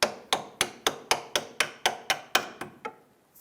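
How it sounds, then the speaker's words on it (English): A hammer taps out a track bar bolt on a 1999-2004 Jeep Grand Cherokee, giving about eleven sharp, evenly spaced metallic strikes at close range that grow slightly softer toward the end. "I'll grab my hammer here and just kind of tap this out"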